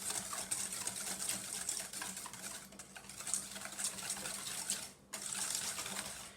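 A hand whisk beats vegan chocolate crinkle cookie mixture in a bowl, giving quick, steady clicking and scraping strokes at a fairly quiet level, with a brief pause near the end.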